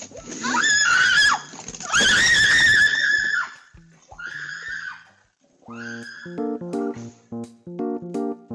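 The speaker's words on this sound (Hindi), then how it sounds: "आगे बैठा हुआ जंगली ड्राइवर इसकी चीखें निकलवा देता है" A woman in a car screams in loud, sustained, strained bursts, two long shrieks followed by shorter cries, then a rhythmic tonal pattern of repeated notes takes over.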